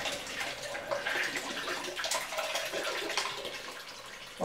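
Water splashes and trickles out of a homebrew portable pressure tester as its pressure is released, a close, uneven gushing with scattered drips and spatters.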